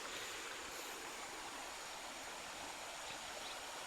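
Steady rushing water of a waterfall in a forest, a continuous broadband roar holding even and unbroken throughout, with no voices.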